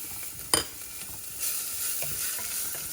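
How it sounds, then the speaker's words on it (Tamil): Cooked horse gram (kollu) being mashed in a pan beside frying onions, with one sharp scrape or knock, then a soft continuous sizzle and faint stirring scrapes. "அந்த வெங்காயம் டிரான்ஸ்பரண்ட் ஆகிறதுக்குள்ளே நான் வேக வச்சுருந்த கொள்ளை லைட்டாக மசிச்சுக்கிறேன்"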